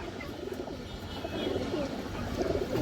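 Silver pigeons, among several fancy pigeon breeds kept for sale, coo softly and repeatedly over a steady background murmur, with no clear talk.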